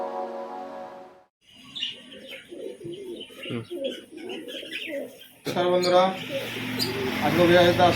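Pigeons in a bird shop make low, soft cooing calls mixed with a few chirps, while a person talks briefly before and after the cooing.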